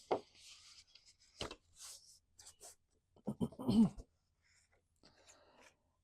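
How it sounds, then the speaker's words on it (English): Paper popcorn wrapper cover being folded along score lines: short crisp creases, rubs and crinkles come in scattered bursts at close range, with brief quiet gaps between handling sounds. "you just want to fold this on the score lines"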